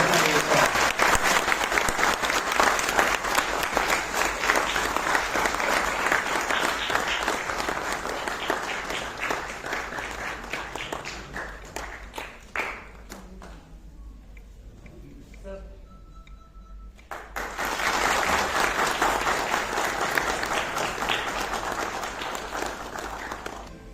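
Audience applause at the Gatha Mahotsav event at IIT Kanpur, loud sustained clapping from a crowd that thins and fades to near silence midway, then returns strongly for the final stretch.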